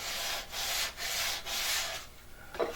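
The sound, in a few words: hand sanding wood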